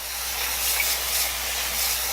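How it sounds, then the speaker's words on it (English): A steady hiss of a spray bottle misting continuously for a couple of seconds, close by. "we're just going to spray it and just keep stirring it"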